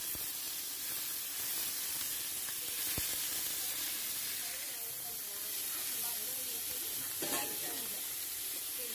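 Beef sizzles and hisses steadily in hot oil with garlic in a pan, a broad frying crackle with occasional stirring scrapes and faint background voice.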